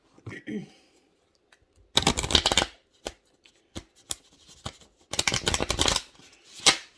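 Tarot cards being shuffled, two bursts of riffling and slapping card noise at close range, separated by scattered taps and handling clicks, with a brief voice at the start.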